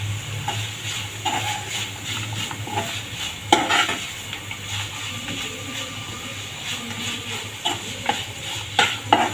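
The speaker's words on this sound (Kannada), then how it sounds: "ಇದು ಕರೆಕ್ಟಾಗಿ ಸಾಫ್ಟ್ ಆಗೋವರೆಗೆ ಇದನ್ನು ಕೈ ಆಡಿಸ್ತಾನೆ ಇರ್ರಿ" Spices sizzle in a pan for mango rice while a spoon stirs and scrapes repeatedly, giving soft frying hiss under irregular metallic taps and a few louder clanks.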